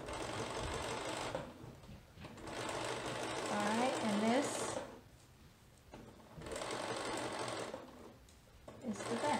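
A sewing machine stitches soft fabric on a Vogue 9057 garment, running in three steady bursts separated by short pauses, close and fairly loud, while a person speaks briefly between runs.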